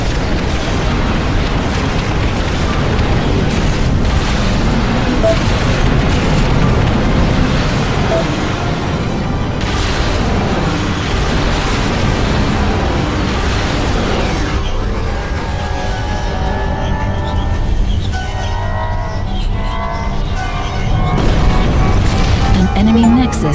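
Heavy booming explosions from an enemy nexus being destroyed in the strategy game Ashes of the Singularity, a dense, loud rumbling barrage that fills the stretch and settles into a tonal drone near the end.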